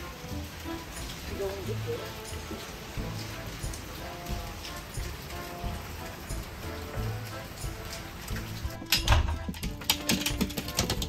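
Steady rain patters outdoors in a dense, continuous wash, with a brief voice heard over it and a sharper clatter near the end.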